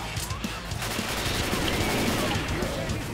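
Gunfire in Left 4 Dead, dense rapid bursts of automatic weapons forming a continuous rattling barrage with heavy low rumble, voices faintly mixed under the shooting.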